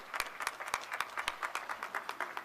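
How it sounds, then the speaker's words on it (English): An audience at a chamber of commerce annual meeting applauds. The claps are distinct and fairly close, in an irregular, moderately loud patter that carries on throughout without speech. "So we applaud you, Al."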